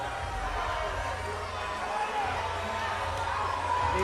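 Crowd at a combat sports league event reacting with steady, appreciative cheering and murmur, a broad continuous roar from a large audience with no silent gaps, under a voice speaking over it.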